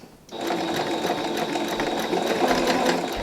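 A sewing machine runs steadily stitching parallel lines of decorative stitch, a close, loud rapid mechanical whir with a fast regular clatter that starts abruptly and continues without pause.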